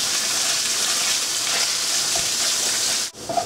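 Pork sizzles loudly and steadily in a hot pan with shrimp-in-oyster-sauce cooking underway, a dense frying hiss that runs unbroken before cutting off abruptly near the end, followed by a brief quieter clink.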